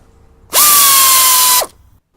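A power tool working on the front wheel of a 2006 Honda Accord gives one loud, steady whirring burst of about a second, starting and stopping sharply against near silence.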